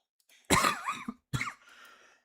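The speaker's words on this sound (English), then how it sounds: "Excuse me, that was coughing up a lung there." A person coughs twice in a harsh, throaty burst during a live-streamed board game session, the first cough longer and the second shorter, close and loud with silence around them.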